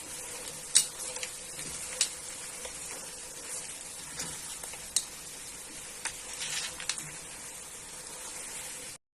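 Seafood soup ingredients stir-frying in a pot, a soft steady sizzle with light spoon scrapes and clinks against the metal, close and fairly quiet with no talking.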